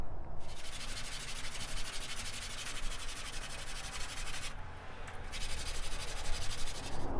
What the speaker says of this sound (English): take yourself a piece of glass or a super flat surface, some fine sandpaper, throw some WD-40 on it, and just work it back and forth